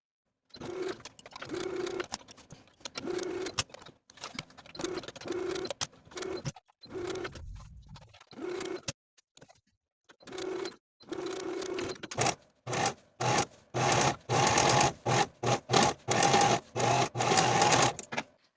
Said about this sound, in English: Now I can take this to the sewing machine and sew the sleeve in place